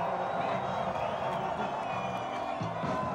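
A concert crowd at a show in Los Angeles roars and cheers with scattered whoops and claps, a loud sustained wall of noise while a voice shouts over the top.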